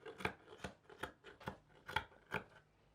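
Scissors snip through fabric repeatedly at a steady pace, about six crisp cuts close by, each a short rasping crunch with brief pauses between.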